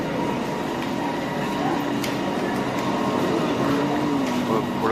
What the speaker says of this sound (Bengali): এই যে আমাদের এলআরটি চলে আসছে মেট্রো রেল